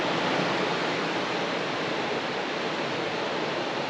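A waterfall beside a beach along the Pacific Coast Highway near Carmel-by-the-Sea gives a steady, broad rushing roar that holds evenly from start to finish with no voices.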